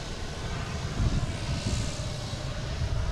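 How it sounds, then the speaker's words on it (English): A JetBlue airliner bound for Milan takes off from runway 4 right at Boston Logan International Airport, a steady distant jet roar with broad rumbling noise throughout and no voices. "we got a JetBlue lined up, heading to Milan on 4 right. That should be taking off soon"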